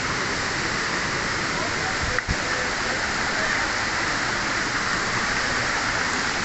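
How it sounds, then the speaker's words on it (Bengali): Cool water pouring at Ram Jodi waterfall, a steady dense rushing hiss close by with one brief knock partway through. "ঠান্ডা ঠান্ডা কুলকুল পানি"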